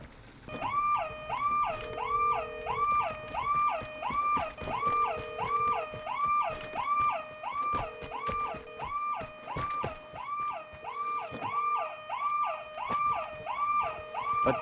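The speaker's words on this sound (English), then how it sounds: "You're setting off all these alarms" A wailing, rising-and-falling alarm siren blares in the video game Vigor, cycling steadily about once per second and sounding loud and close, with scattered clicks and thuds underneath.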